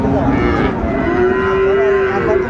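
A loud, drawn-out moo from a Friesian or crossbred bull calf rises and holds for a couple of seconds, close by at a busy cattle market with a steady crowd murmur underneath.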